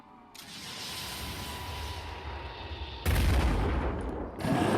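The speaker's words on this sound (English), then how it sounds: "And I think we'll just finish it off with our rocket." A rocket fires and bursts in the Phoenix Point game, a rumbling launch followed by a heavy low boom, then a second loud blast near the end, with no talk over it.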